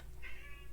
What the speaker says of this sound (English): please ignore if you can hear the meowing cat.